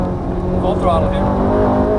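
Ferrari F430 F1 engine runs at full throttle on a racetrack, a loud, steady drone heard from inside the car beneath an instructor's speech.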